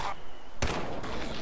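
A single sharp gunshot in the video game Fallout 4 cracks out loud and close amid steady background game noise, with no talking over it.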